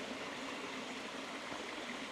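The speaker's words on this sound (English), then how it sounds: "I've been standing by this running water this whole time, and it's just awesome." A running stream in the Hot Springs Village area makes a steady, even rush of water, a broad continuous wash with no breaks and no voices, moderately faint.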